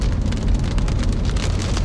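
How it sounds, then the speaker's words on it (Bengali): Heavy rain pours in Jeddah, a steady, dense broadband hiss of drops hitting surfaces close by, continuous and loud with no voices. "বৃষ্টি হচ্ছে"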